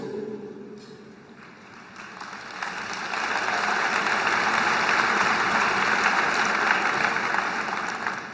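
Audience applause at a formal political speech by a prime minister, a broad diffuse wash of clapping that swells in and stays steady, heard from a distance in a large hall.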